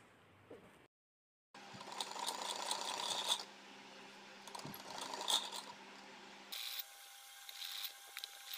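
A sewing machine tacks a lace neck onto a printed kurti, quiet whirring runs of stitching broken by pauses, with a short higher-pitched run near the end.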